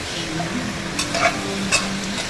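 Chicken legs fry in a wok with scallion, ginger, garlic, bay leaf and spices, a steady close sizzle broken by a few brief scrapes and clinks as they are stirred.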